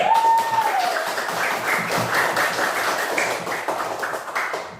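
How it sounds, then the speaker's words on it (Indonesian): Classmates in a classroom applaud a student named Rizky, a burst of many hands clapping that holds steady and then tapers off at the end. "Ya, tepuk tangan teman-teman Rizky"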